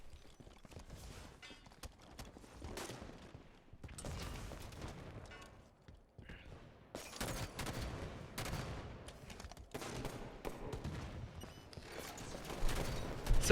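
Gunfire in a capture-the-flag video game match, rapid bursts of shots and fusillades building in density and loudness toward the end, with no talking over them.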